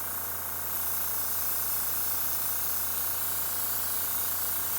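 An airbrush sprays water-based primer onto a model kit figure, giving a steady, fairly quiet airy hiss that runs unbroken through the whole stretch with no voices.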